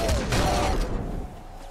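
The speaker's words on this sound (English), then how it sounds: "Flare gun." Fusillade of shots from a flare gun in the video game Nuclear Throne, a quick burst of loud popping fire up front, with game noise continuing after.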